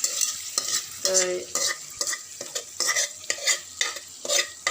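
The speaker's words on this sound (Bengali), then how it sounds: "এই যে উপরে তেল বাসতেছে। এখানে আমি এখন মাছটা দিয়ে দেব।" Hilsa fish frying in hot oil, making a loud, continuous sizzle broken by rhythmic scraping and stirring strokes in a pan, with no speech.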